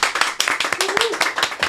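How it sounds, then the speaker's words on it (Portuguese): An audience at a podcast recording with a pastor claps steadily in a short round of applause, close and brisk, while a voice speaks over it. "Quem gostou, uma salva de palmas."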